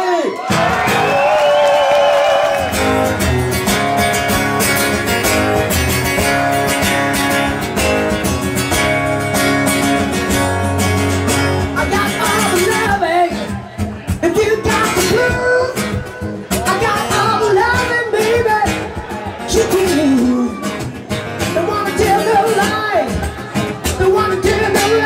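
Loud crowd cheering, whooping and shouting greet a band at an acoustic rock show in Stockholm, Sweden, with music playing underneath throughout and a brief dip in the noise partway through.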